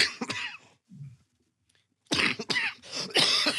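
Coughing fit up close: a burst of harsh, raspy coughs, a brief pause with a small throat sound, then a fresh run of loud, hacking coughs.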